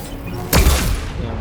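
A flashbang grenade detonates in the Mass Effect 2 video game, a single loud close burst with a low boom that rings out over ongoing background game noise.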